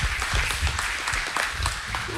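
A church congregation claps in a broad, steady round of applause that keeps a fairly even level from start to finish.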